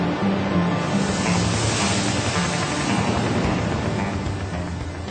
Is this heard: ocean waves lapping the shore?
yes